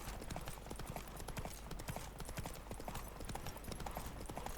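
Horse hooves clip-clop steadily and rapidly at a gallop during a race in The Witcher 3 video game, loud and continuous, with a few faint voice fragments in the background.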